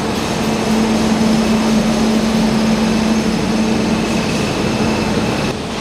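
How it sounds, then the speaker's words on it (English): An Indian electric locomotive, a WAP-5, gives off a loud, constant rumble with a steady whine running through it, a close, unbroken mechanical drone lasting several seconds. "This is the engine, my train engine, P5, Web 5, electric train."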